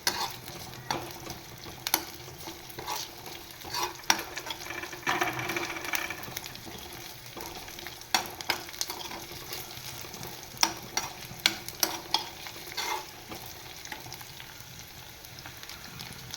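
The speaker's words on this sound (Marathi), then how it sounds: "बटाटा छान असा तुपावर परतवून घेऊया आपण" Diced potato fries in ghee for sabudana khichdi with a constant soft sizzle, broken by frequent clicks and scrapes of a spatula stirring the pan.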